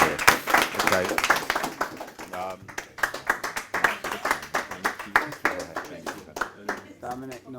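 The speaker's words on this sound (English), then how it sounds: "give yourselves a round of applause for getting down here" Audience applause at a political party's local government councillor training session: steady clapping from a group, running under a speaking voice.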